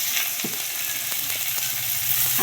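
Potatoes drop into hot oil with browned onions and cumin, giving a loud, continuous sizzle and frying hiss with a few soft stirring clicks and scrapes.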